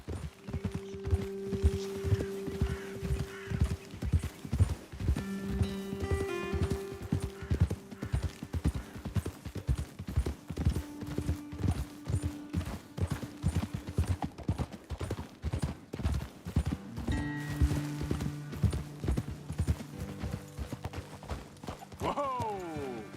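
Hooves clip-clop in a steady, rapid rhythm for a long stretch, with occasional horse snorts and whinnies over a low musical background, in the video game Red Dead Redemption II.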